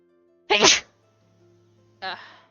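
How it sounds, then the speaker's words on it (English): A sharp sneeze bursts out, followed by a second softer sneeze about a second and a half later, close and quiet otherwise. "I have to sneeze again."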